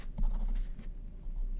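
A pen or pencil scratches across paper in a few short, close strokes over a faint steady hum, with no talking.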